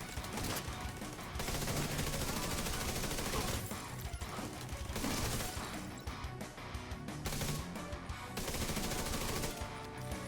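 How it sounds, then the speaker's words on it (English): Dense, continuous automatic gunfire from The Division 2, bursts of rapid shots with crashes and impacts running almost without pause, loud and close throughout. "That's not what I meant to shoot, but that's what I'm shooting."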